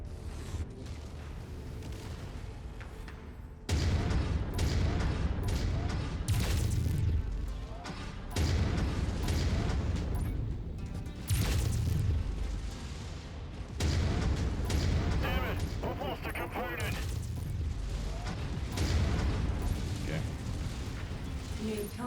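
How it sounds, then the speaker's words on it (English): PPC and missile fire in MechWarrior 5: Mercenaries: dense, loud battle noise with repeated booming blasts and crackling impacts, dipping briefly between volleys. "Yeah, I'm not eating all that PPC fire."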